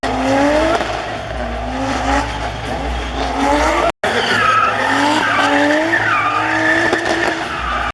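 A Nissan car drifts with loud, sustained tyre squeals that rise and fall as it slides, while the engine drones underneath. The sound stays close and continuous, with a brief cut midway.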